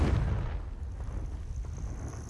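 A Confringo blasting spell goes off in Hogwarts Legacy, a deep booming explosion that starts loud and decays into a rumbling tail over a couple of seconds, with no speech.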